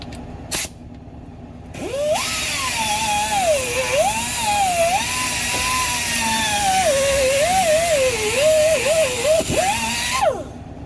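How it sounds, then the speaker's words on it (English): An abrasive sanding wheel on a power tool works at a wheel bearing repair on a 2016 Dodge Ram 4x4, giving a steady whining grind with shifting pitch that runs for about eight seconds, close and loud, with no talk. "Now we use this. This is like a sandpaper in a wheel."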